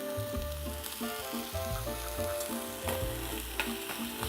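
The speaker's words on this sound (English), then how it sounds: "So the pan is nice and hot. We're gonna get a nice sear on these tomatoes." Tomatoes sear in a hot pan, a steady dense sizzle with crackling pops and occasional stirring scrapes, close and continuous, with no voices over it.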